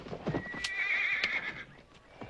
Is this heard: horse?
yes